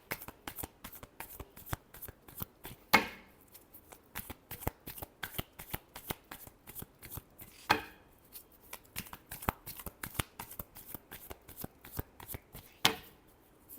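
Tarot cards shuffled by hand in a steady stream of quick riffling flicks and taps, punctuated by three louder slaps as the deck is squared, close and clear with no talking.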